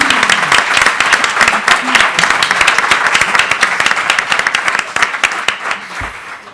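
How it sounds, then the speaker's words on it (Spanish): A seated audience at a talk on parenthood with cystic fibrosis gives loud, sustained applause, dense clapping that thins toward the end with a faint voice at the close. "Un aplauso, por favor."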